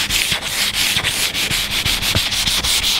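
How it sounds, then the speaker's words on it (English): Light denibbing of a wood furniture finish during French polishing, with a steady rhythmic sanding rasp of repeated short strokes, close and fairly loud, and no talking. "It's only a light denib."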